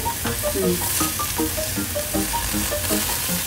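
Salted cactus steak fries in a hot pan with a loud, continuous sizzle and crackle. Brief tonal blips sound through the steady hiss.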